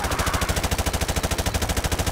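Rapid automatic gunfire in Call of Duty Modern Warfare 2 Remastered, a continuous evenly spaced burst of loud shots with no pauses.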